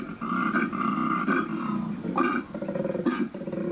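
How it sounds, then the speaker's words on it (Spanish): A recorded roar of a small male koala plays back as a deep, rasping, snoring bellow in repeated pulsing phrases, loud and sustained across the whole span, with no talking. "El primer sonido reproducido es el rugido de un koala macho pequeño."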